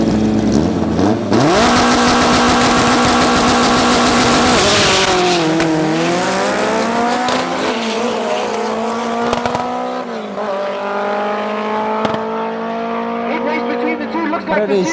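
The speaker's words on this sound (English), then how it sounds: "In the left we got Marco with his all motor Opel, and he's up against him Johan with his B18C Turbo CRX." At a drag race at Tarlton International Raceway, an all-motor Opel runs against a B18C turbo Honda CRX. Engines roar loudly through rising revs and gear-change pitch drops, with a brief tyre squeal, then fade as the cars pull away.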